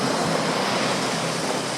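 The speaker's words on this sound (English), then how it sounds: "And the stream comes down this rock and become the waterfall that we know, the Kanching" Kanching Waterfall pours as a stream over rock, a loud, steady broadband rush of water with no breaks and no voices.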